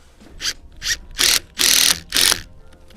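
A screw is driven through a pre-drilled hole to join the back wall of a large garden shed, giving five short ratcheting bursts that grow longer and louder, close up with no talk.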